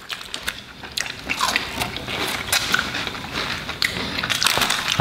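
Crunchy fried green beans with a crispy crust being bitten and chewed up close, a run of sharp crackling crunches with wet mouth sounds.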